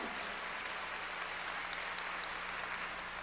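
Church congregation applauding during a sermon, a steady, even wash of many hands clapping together, sustained and fairly distant, with no voice over it.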